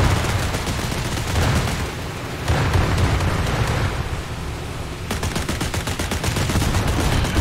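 Ship guns in a naval video game fire in rapid repeated bursts of dense gunfire over a constant rumbling, sea-like background. A burst starts at about five seconds and is louder and sharper than the rest.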